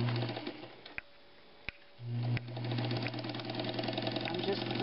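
Old sewing machine running after oiling, a steady mechanical whir that stops briefly and restarts, with sharp clicks and people talking over it.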